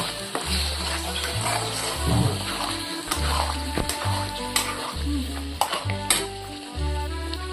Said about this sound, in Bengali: এবার এটা আমি ভালো করে পুরো মশলার সাথে মিক্স করে নেব।